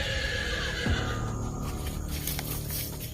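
A horse neighs once near the start, a loud whinny sliding downward, with steady wind or outdoor noise throughout.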